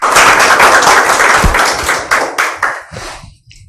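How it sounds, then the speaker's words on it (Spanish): Close, loud clapping from a conference audience welcoming a speaker, a brisk burst of many hands that tapers off into scattered claps and fades out. "le damos un fuerte aplauso a la doctora de bienvenida"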